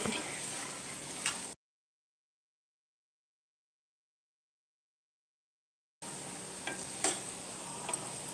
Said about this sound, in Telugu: బంగాళదుంప ఫ్రై చూడండి ఎంత బాగుందో మా సిస్టర్ వండుతున్నారు